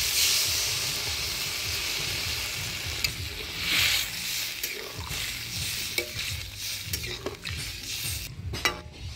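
Water going into a hot pan of spiced potato, cauliflower and pea curry, a loud hissing burst of steam and sizzle that settles into bubbling with spoon scrapes and clinks.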